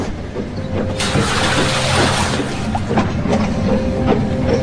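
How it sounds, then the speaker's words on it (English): Steam train approaching a bridge at night, chuffing with bursts of hissing steam and rattling clatter, loud and close with a faint whistle tone threaded through. "The puffing got louder and louder, with a hissing of steam and a clatter"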